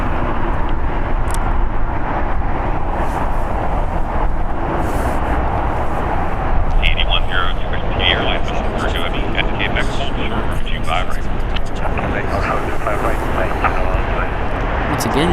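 An airliner lands at LAX airport, its engine roar a continuous loud rumble, with a whining jet tone rising partway through, while someone talks over the noise.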